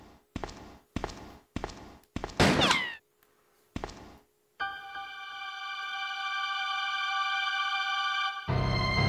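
Gunshots ring out in Resident Evil 2: several sharp, loud bangs in an uneven rhythm, followed by a sustained bright tonal hum that swells and holds until one more hard hit lands.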